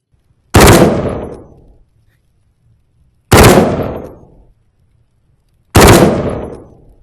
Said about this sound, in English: So we've got 3-shot burst.